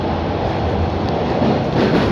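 Subway train rolling between stations on a Toronto line near Royal York, a steady loud rumble of wheels and carriage noise filling the whole span with no pauses.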